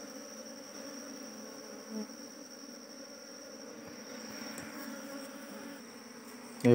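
A small colony of bees in a little wooden hive gives a steady, close, even drone that holds throughout, with a brief bump near the end.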